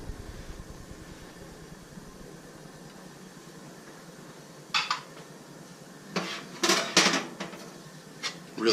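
Pancetta going into a pan with a little olive oil, heard as a low steady background hum with scattered metallic clinks and scrapes of utensil against pan near the end.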